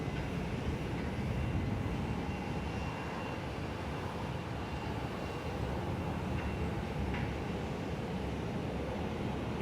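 Airlink ATR turboprop airliner at Perth airport, a steady broadband engine roar at moderate distance, holding constant through the whole stretch with no voices.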